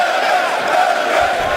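A boxing crowd at the Bell Centre roars and rallies behind a local fighter, a steady wall of cheering and shouting that stays loud throughout with no break.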